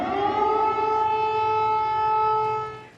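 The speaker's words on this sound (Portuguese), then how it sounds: "as sirenes que alertam para um possível novo ataque voltam a soar" Civil defense air raid sirens sound across Ukraine in a steady, loud wail with layered tones that hold for about three seconds, then fade near the end; no voices are heard.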